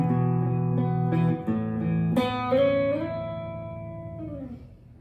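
Electric guitar plays the second half of the main riff from a song, a few plucked notes with a sharp attack midway, then a bent sustained note that slowly fades, with no voice over it.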